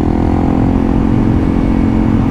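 A Honda CRF 300L motorcycle engine holds a steady idle-free run near 5000 rpm, a loud, close, even drone with no rattle or change in pitch.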